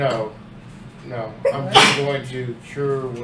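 A single sharp sneeze bursts out at a tabletop role-playing game session, abrupt and loud, set between stretches of ordinary conversation among the players.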